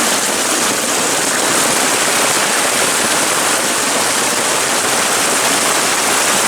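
Heavy rainwater rushes through a drain with a small black holly plant in it, a loud, steady, close hiss and roar of flowing water that never lets up.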